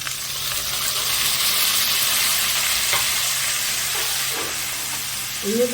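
Ground cumin, turmeric and green chili fry in a wok alongside a fried fish head for a taro leaf dish, giving a steady loud hiss of sizzling oil with a few faint clinks.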